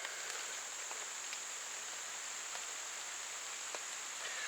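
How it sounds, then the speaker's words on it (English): Steady rain falls on a tarp shelter outdoors, a constant dense hiss with scattered sharper drop ticks close by and no voices. "Here comes the rain again."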